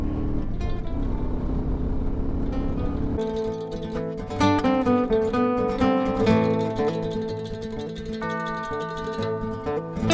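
A Suzuki C50 motorcycle fitted with a Lehman trike kit rides along and accelerates, its engine droning steadily with rising pitch, later joined by prominent tonal music.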